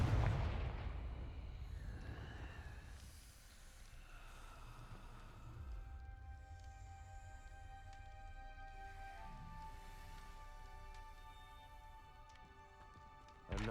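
Explosive Confringo spell cast in the Hogwarts Legacy video game, a loud burst at the start followed by a decaying rumble and ringing tonal game music that carries on to the end.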